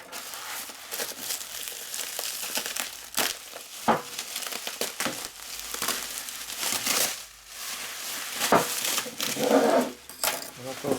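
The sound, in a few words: paper wrapping being pulled off a motorcycle cylinder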